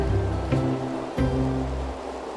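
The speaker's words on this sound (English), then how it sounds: "Laying on a riverbed, splashing around with a little mink" Water splashes and sloshes around a small mink playing in a shallow riverbed, with a steady rush of flowing water underneath and a couple of sharper splashes standing out nearby.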